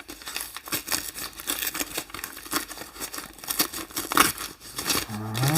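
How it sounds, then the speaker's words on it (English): A mailed package being opened by hand: rapid crinkling and tearing of wrapping and paper, close and busy, coming in irregular bursts with brief pauses and a short voiced sound at the very end. "He did a great job packaging it, so let's"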